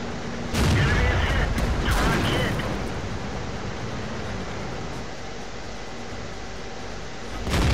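A tank cannon in World of Tanks fires with a loud, close boom, followed by a second blast, then a sustained rumbling wash of battle noise and another heavy thud at the end.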